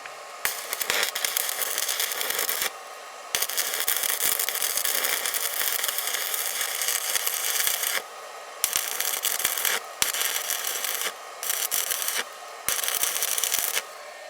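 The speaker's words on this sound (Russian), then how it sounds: "по звуку горения можно понять, что действительно очень хороший контроль дуги" Portable AZZUNO MMA120X stick welder running at 100 amps, its arc burning with a steady loud crackling hiss, broken by several short pauses between runs.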